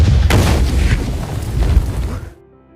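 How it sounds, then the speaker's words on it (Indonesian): A land mine blast, picked up by a young Nazi soldier during wartime bomb disposal, delivers a loud, deep boom with rumbling debris that rolls on for about two seconds before cutting off abruptly. "saat Werner mengambil ranjau, terjadilah ledakan."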